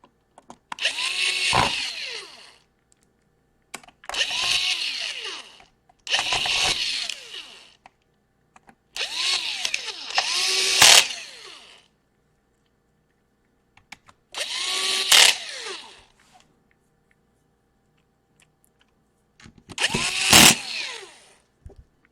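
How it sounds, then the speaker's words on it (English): Cordless screwdriver backing screws out of an HP EliteBook 850 laptop chassis, six separate whirring bursts of about two seconds each, close and fairly loud, separated by short pauses with no talking. "let me get all of the screws out"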